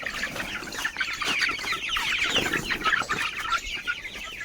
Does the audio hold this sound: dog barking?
no